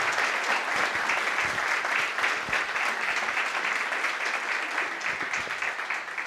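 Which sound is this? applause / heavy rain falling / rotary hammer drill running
applause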